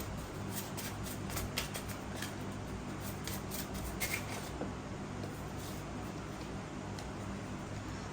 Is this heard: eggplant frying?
no